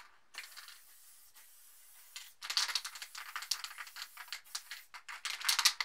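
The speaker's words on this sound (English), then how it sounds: "I'm going to spray a bit of paint through to pull the paint through the cap" Spray paint can fired through a Level 1 Ultra Skinny Cap: a faint steady hiss at first, then a run of short, close, sharp spraying bursts in quick irregular succession.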